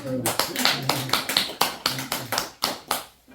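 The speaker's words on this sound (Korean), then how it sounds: "박수 쳐야 돼." Audience at a health lecture in a small community meeting room claps in a quick burst of sharp, closely spaced claps that slowly tapers off.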